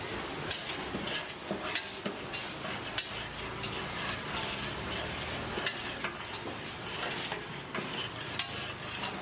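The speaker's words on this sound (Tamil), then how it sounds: "கடலப்பருப்பு மட்டும் நம்ம ஒரு கை விடாமல் நம்ம கிண்டிகிட்டே இருக்கணும்" Chana dal being stirred as it dry-roasts in a pan for tiffin sambar, giving a steady dry rustling scrape with regular sharp ticks of a spoon against the pan, close and continuous, with no talking.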